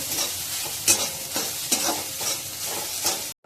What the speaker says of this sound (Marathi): तो आता छानपैकी याच्यामध्ये परतून घेऊया तुपावर.